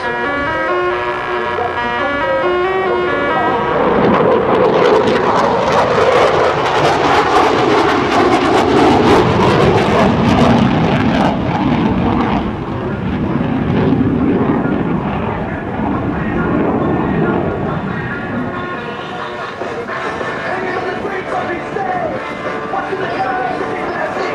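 An F-15E Strike Eagle jet roars through a knife-edge pass at an air show demonstration, a loud sustained engine rumble swelling and fading as it sweeps by, with an announcer talking over it.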